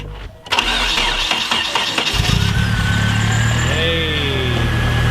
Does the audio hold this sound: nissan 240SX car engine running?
yes